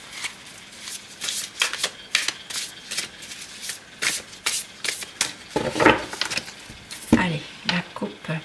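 Tarot cards shuffled and cut by hand in a series of quick riffling, flicking bursts with short pauses between them, close and fairly loud, with soft talking faintly underneath.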